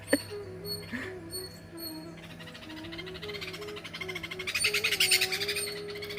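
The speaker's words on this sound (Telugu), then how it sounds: "ఇక దగ్గరికి వచ్చామంటే ఈ పిట్టలు గోల గోల చేసేస్తూ ఉంటాయి." Bulbuls calling near their nest, a run of loud repeated chirps and squawks close by, rising into a busier, noisier chatter toward the end, with a steady low hum underneath.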